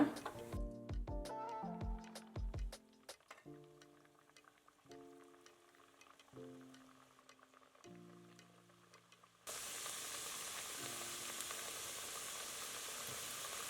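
Music with plucked melodic notes plays first, then gives way to a steady, soft crackling sizzle as nippattu khara biscuits fry in hot oil over a low flame.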